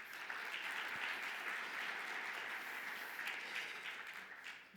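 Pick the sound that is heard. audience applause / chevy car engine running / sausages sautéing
audience applause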